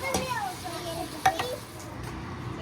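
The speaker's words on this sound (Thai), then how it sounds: "นี่คือการผัดสปาเกตตี้ของเราเสร็จแล้วค่ะ" Spaghetti with garlic is stir-fried in a pan, giving a faint sizzle with a couple of sharp utensil scrapes and clinks, while a voice is faintly audible in the background.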